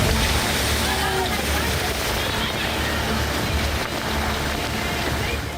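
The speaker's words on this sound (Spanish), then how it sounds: "Segundo día de temporal y el mar se salió de control." Stormy sea on the second day of a coastal storm in Peru: a loud, continuous roar of crashing, churning waves filling the whole stretch without pause.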